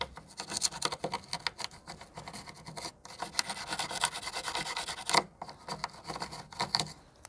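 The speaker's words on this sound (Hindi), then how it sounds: "इसके बाद में इस ब्रुश का इस्तेमाल करेंगे" A brush scrubs a scooter indicator terminal, an Activa, with a little petrol. Close, steady raspy rubbing and scratching strokes repeat through the whole clip, with short pauses between them.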